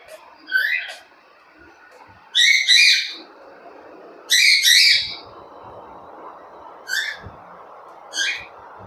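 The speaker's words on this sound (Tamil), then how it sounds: "என்னோடய ஒயிட்டி கத்திகிட்டே இருப்பாள் கீ கீ கீ கீ கீன்னு" A white pet bird screeches in repeated sharp, high bursts, loud and close, in short clusters spaced a few seconds apart over a steady indoor hum.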